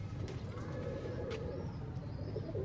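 Soft, low pigeon cooing rumbles through steady background noise, with a few faint higher chirps from other birds.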